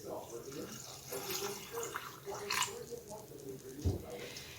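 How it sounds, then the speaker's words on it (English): Brine is poured over beans packed to the lip of a canning jar, giving a soft liquid splashing and trickling under steady talk, with one brief louder splash near the end. "So I've got the brine solution, and I'm going to pour it over the beans"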